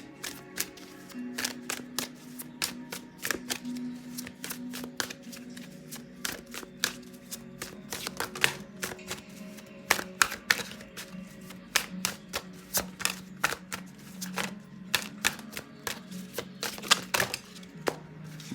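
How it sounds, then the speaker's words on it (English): Tarot cards are shuffled and pulled from a deck, giving a long run of crisp, irregular slaps and flicks close by at a quiet level with no talking. "So let's pull some more cards out for you."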